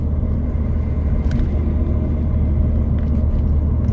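A Ford Fiesta ST with a 2J-racing intake and stock exhaust cruises at low speed, giving a steady, fairly quiet low engine and road rumble with no voices.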